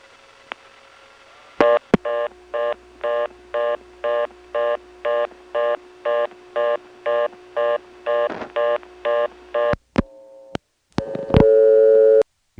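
A 1977 step-by-step telephone exchange in Ramseur, North Carolina, sends a regular train of pulsed tones, then a few sharp relay clicks before a steady reorder tone begins near the end.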